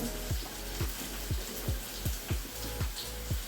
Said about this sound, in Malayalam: ഇനി നമുക്ക് ഇതിലോട്ട് സവാള ഇട്ട് കൊടുക്കാം